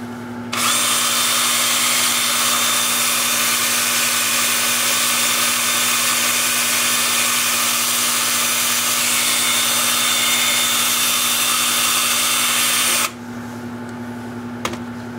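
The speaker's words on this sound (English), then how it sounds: "Time for sanding." A power sander whines steadily against a wood-turned root ball for about twelve seconds, loud and constant, then cuts off abruptly, leaving a low hum.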